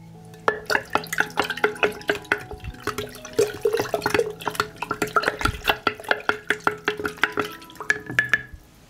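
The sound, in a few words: stirring sugar into water for natural fertilizer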